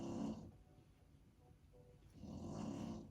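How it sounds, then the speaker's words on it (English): Snoring in two slow, heavy breaths, one at the start and one near the end, with a quiet gap between them; fairly faint and heard alone without talk. "I am so sorry about the snoring."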